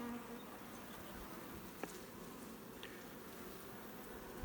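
Honey bees buzzing around a hive box, a steady faint drone from many insects throughout with no talking, one or two tiny clicks standing out briefly.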